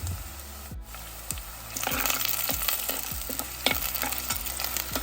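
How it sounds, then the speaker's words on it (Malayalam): Chopped ginger and curry leaves stirred in a sizzling pan for a Kerala fish curry, repeated scraping strokes of a spoon over a steady frying hiss that grows louder partway through, close and with no voices. "കൊത്തി അരിഞ്ഞ ഇഞ്ചി ഇത് നമുക്ക് നന്നായി ഒന്ന് ഇളക്കി കൊടുക്കാം"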